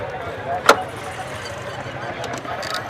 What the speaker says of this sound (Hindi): ये आप देखें चारों जो है सेंट्रल लॉकिंग है